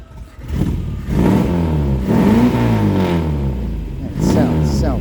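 Engine of a 1980 MGB convertible revving, with rising and falling throaty pulls and a rumbling idle between them, close and loud, and someone talking over parts of it.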